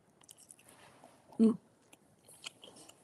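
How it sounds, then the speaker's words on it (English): A person chews a bite of terrine close to the microphone, with one distinct squishy bite among quiet mouth sounds and faint background noise. "I'm just going to have a little bit more terrine"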